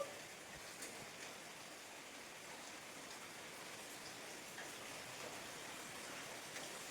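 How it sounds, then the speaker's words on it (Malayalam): Rain falling steadily outdoors, a faint, continuous hiss with no clear individual drops and no voices. "മഴയൊക്കെ നല്ലപോലെ പെയ്യുന്നുണ്ട്."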